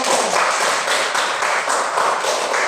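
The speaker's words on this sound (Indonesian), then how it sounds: "tepuk tangan dulu untuk hadiran kita" A classroom of students claps together to celebrate their full attendance, loud, close, sustained clapping that pulses in a rhythmic pattern throughout, with no talking over it.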